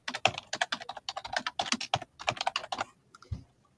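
Fingers type on a computer keyboard to enter a search, a close, crisp run of rapid key clicks in irregular bursts with short pauses, ending in a few isolated taps.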